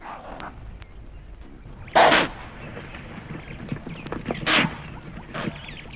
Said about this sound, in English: This is the impala alarm snort taken up by the whole herd.